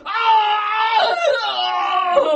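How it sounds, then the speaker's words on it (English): Terrible human screams in the dark, a loud, high, strained wailing voice sustained for a couple of seconds with wavering pitch, close and alone. "We heard some more terrible screams."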